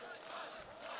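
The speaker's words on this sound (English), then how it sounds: "You can hear the crowd in the background as well." Crowd cheering and shouting at a CS:GO esports major championship in Columbus, a dense roar of many voices held steady for about a second, faint and distant.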